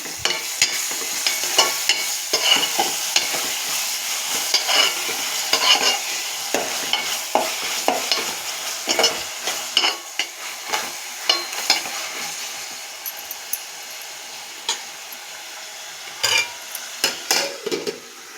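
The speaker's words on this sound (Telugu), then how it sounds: "ఇప్పుడు ఇందులో కొంచెం అల్లం వెల్లుల్లిపాయ పేస్ట్ వేస్తున్నాను. ఇదంతా ఒకసారి బాగా కలుపుకుందాం." Fried onions with ginger garlic paste stirred in a pan for a ridge gourd and dried fish curry: steady frying sizzle under repeated scraping strokes of a spoon against the metal pan, close and clear, no talking.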